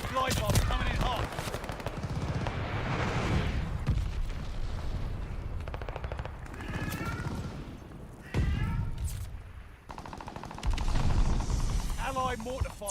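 Mortar fire and battle noise in the Call of Duty Vanguard game, with repeated heavy booms and gunfire forming a continuous loud din under scattered game voices.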